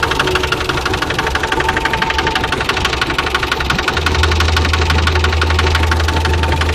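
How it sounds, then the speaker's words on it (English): An old four-cylinder Volvo B20 pushrod boat engine in bad shape runs steadily with a rough, rhythmic knocking throb, joined partway through by a deep, constant low hum. "It's an old 4-cylinder Volvo B20 pushrod engine."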